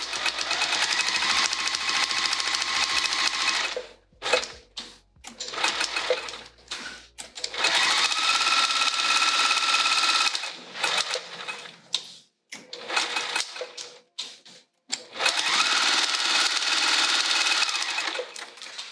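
A sewing machine stitches quilting lines through vinyl backed with foam, using a Microtex needle and Teflon foot, in three long steady runs of rapid motor-driven stitching broken by short pauses and clicks.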